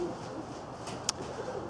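Uzbek pigeon breeds such as gulbadam and kasan coo softly at a steady low murmur, with a faint brief chirp near the end.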